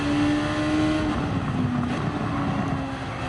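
A racing car in a racing video game runs near the limit with a steady engine hum and a thin, drawn-out tyre scrub as grip breaks loose, heard alone over rushing wind-like noise.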